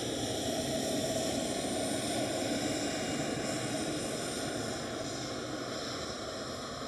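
Mitsubishi CRJ regional jet of SAS taking off at Amsterdam Schiphol airport, a sustained broadband engine roar with a faint whine, steady and gradually easing as the aircraft departs, no voices heard.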